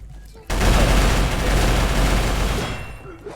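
A sudden loud burst of video-game gunfire erupts after a short quiet moment, continuous rapid shots rumbling on for about two seconds before tapering off.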